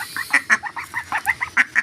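Ducks quacking at close range on a small grape farm, with a rapid series of short nasal calls in an uneven rhythm, loud and clear with no talk over them.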